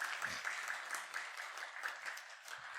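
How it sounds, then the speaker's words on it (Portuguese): A church congregation applauding, steady and moderately loud, with many hands clapping together throughout. "Vamos dar uma salva de palmas aos autores."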